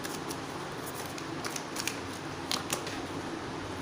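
A tarot card is drawn from the deck, producing a few quiet, crisp card flicks and rustles in a hushed room.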